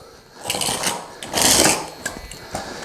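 A knife slices a strip off a roll of carpet in a few short rasping cuts and scrapes, close and moderately loud, with no talk.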